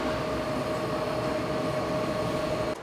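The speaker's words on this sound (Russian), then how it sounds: "Здесь на более чем 5 гектарах земли развернуто производство поездов." Inside a train factory in Qingdao, a continuous, dense rolling rumble with a steady high whine runs throughout at even loudness, as railway machinery moves, with no voices.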